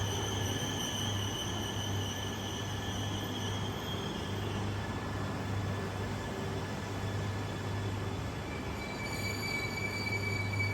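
A Yamagata Shinkansen Tsubasa E3 series mini-shinkansen pulls in with a steady rumble and rail noise, a low hum running throughout along with faint high-pitched squeal tones, heard at a fairly close distance with no voices.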